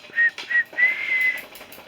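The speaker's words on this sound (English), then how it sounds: "Sometimes I whistle" A person whistles a few short tonal notes, then a longer held note, while working on a DIY fall pumpkin blocks project. The whistle is close and moderately loud with brief pauses between notes.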